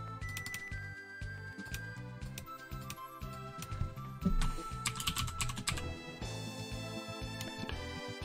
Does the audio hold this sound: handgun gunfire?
no